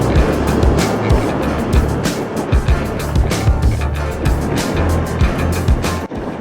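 A motorcycle riding an unpaved gravel road in the Black Hills where the pavement ends, with a steady loud rumble of engine and tires crunching over loose surface, plus constant wind buffeting, alone without talk.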